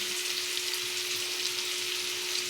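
Chopped onion frying in hot oil, an even, close hiss and crackle that holds steady throughout, with a faint constant hum underneath and no talking.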